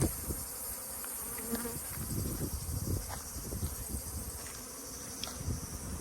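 Honeybees buzz in a steady, close swarm, a dense drone with occasional individual insects passing nearby against faint outdoor noise.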